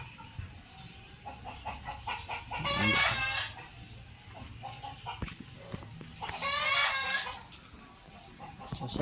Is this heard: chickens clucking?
yes